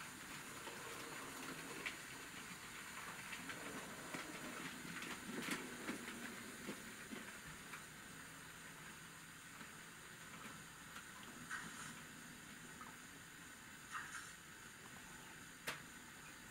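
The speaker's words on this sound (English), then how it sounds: "So picking up the jinty train in its later stages, let's follow it into the station" A small Jinty steam locomotive, likely a model, runs into a station, giving off a soft continuous hiss and rolling rumble with scattered light clicks and taps, faint and steady throughout.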